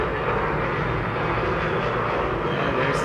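Aircraft engine drone from a jet flown in a video game, a steady loud roar that holds evenly throughout without pauses or talk.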